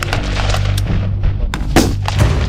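Rifle gunfire at Marine Corps boot camp training, loud repeated shots cracking over a continuous rumbling range background, several reports spread through the clip.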